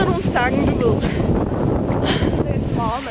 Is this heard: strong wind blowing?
yes